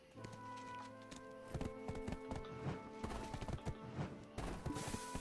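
Horse hooves clip-clopping in the Black Desert Online video game as a horse is ridden and jumped onto barrels, a series of sharp rhythmic hoof impacts with uneven spacing, alongside faint game ambience.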